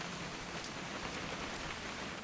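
Steady rain falls in What Remains of Edith Finch, a dense, even hiss of drops on surfaces with no pauses, moderately quiet and alone.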